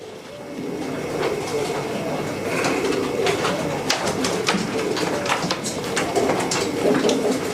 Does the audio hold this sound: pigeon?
yes